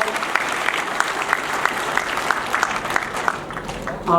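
An audience in an auditorium at a political party members' meeting applauds arriving guests, with steady clapping carrying a loose rhythmic pulse, cut off at the end by a voice.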